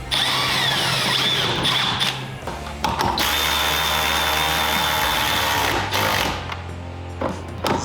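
A power drill drives a screw while fitting clear lower doors and fender flares to a Honda Talon 1000X-4, whining loudly and steadily in long close bursts with brief pauses between runs.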